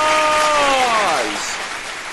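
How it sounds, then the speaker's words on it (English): Studio audience bursts into applause, a broad loud wash of clapping that gradually fades, with a voice's falling sung or drawn-out tone riding over the start. "Big round of applause!"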